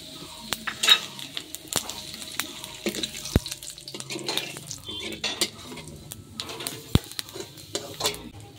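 Dried red chillies and bay leaves drop into hot oil in a pan for a Bengali fish curry, giving a soft steady sizzle with scattered sharp clicks and utensil taps, close and moderately quiet.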